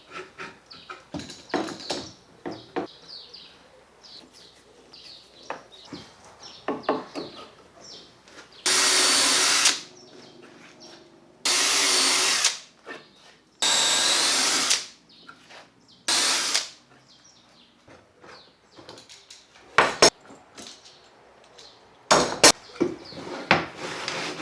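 A power drill whines in several short bursts of a few seconds each, drilling dowel holes in wood through a dowel jig, separated by quieter handling clatter and clicks.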